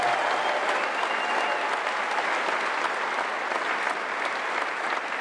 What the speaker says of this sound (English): How about a round of applause for America First Policies for bringing us all together today.